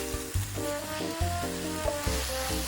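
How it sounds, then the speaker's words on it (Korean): Spicy Korean pork, jeyuk bokkeum, stir-fries in a pan over medium to medium-high heat. It makes a loud, constant sizzle with regular scraping and stirring knocks, and a tonal hum runs beneath it. "너무 센 불로 볶지 말고 살짝 중불보단 조금 센 불 아니면 중불 이렇게 볶아주시고"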